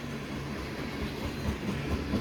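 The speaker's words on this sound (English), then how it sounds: "So, just so happens 2 hazardous chemical trains back to back" A long freight train of hazardous chemical tank cars, likely an ethanol train, rolling past with steady low rumble and rhythmic wheel clatter, moderately near, no voices.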